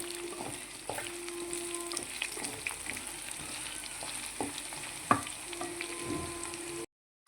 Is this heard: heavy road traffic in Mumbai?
no